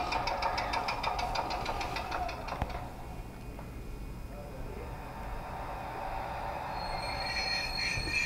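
A Bachmann Branchline Class 419 MLV model train runs on track, giving a steady mechanical hum with rail squeal and a tonal whine near the start, then a quieter rolling drone.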